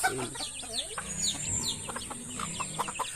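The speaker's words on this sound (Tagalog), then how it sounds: "Puro native na manok." Native chickens cluck and call close by in short, repeated bursts, with a few higher squawks breaking in among the steady clucking.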